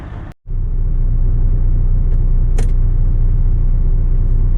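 A road vehicle pulls away on a snow-covered winter road, its engine making a loud, steady rumble after a brief break at the start. A couple of faint clicks come through, with no talking.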